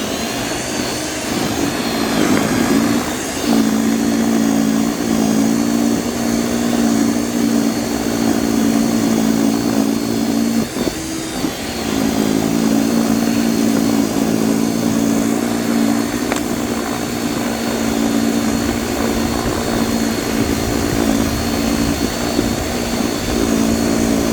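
An EGO SSA1200 power snow shovel attachment on a multi-head unit running at a steady, loud electric whir for the whole stretch, close by, with brief dips as it clears snow.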